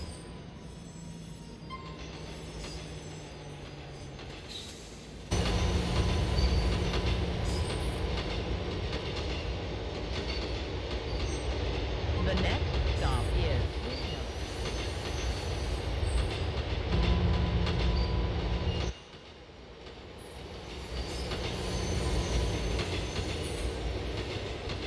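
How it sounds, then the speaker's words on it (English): A GTA IV subway train runs through the Liberty City tunnels, a steady loud rumble with rattling wheels and a brief squeal. The noise drops and surges as the carriage changes pace, with no voices. "This is a B train."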